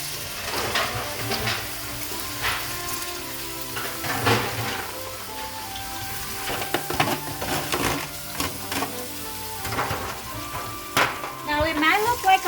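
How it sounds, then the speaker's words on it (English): Chopped onion frying in hot olive oil in a pan, a steady soft sizzle with scattered clicks and scrapes of stirring, close and moderately quiet. "Now we're adding the onion to the olive oil."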